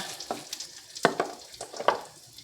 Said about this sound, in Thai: แล้วก็ไข่ เราทอดไข่ใส่ลงไป